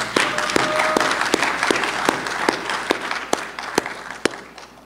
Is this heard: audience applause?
yes